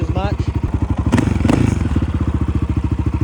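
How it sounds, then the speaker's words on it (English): A motorcycle engine idles just after valve repair work, loud and close, with an even, rapid chuffing pulse, a couple of brief clanks, and a voice over it early on. "Engine sounds quite a bit better. It's a lot quieter. You don't hear the valves nearly as much."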